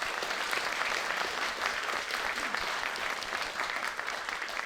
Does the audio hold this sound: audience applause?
yes